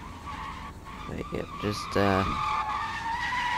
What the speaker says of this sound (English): It would only be me that could crash a car like that.